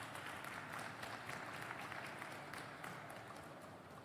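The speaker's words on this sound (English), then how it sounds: "Please give them a big round of applause." Audience applause for panel speakers at an artificial intelligence forum in Tanzania, a faint, distant wash of clapping that tapers slightly toward the end, with no talking.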